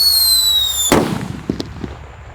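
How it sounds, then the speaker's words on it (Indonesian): A red Pearl Thunder firecracker goes off with one loud, sharp bang after a short lead-in, and crackling debris and echoes fade out after it. "di sini ada mercon Pearl Thunder warna merah guys. Kita lihat reaksinya ya. Langsung kita nyalakan."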